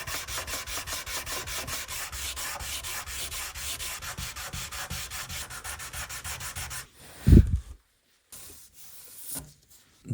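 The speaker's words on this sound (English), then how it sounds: "I have this special sanding block that extends over the binding so that I can sand the whole fretboard flat on both edges" Steady rhythmic back-and-forth strokes of a sanding block across the fretboard of a 1979 Gibson guitar, close and continuous, then stopping abruptly followed by a brief knock and quiet.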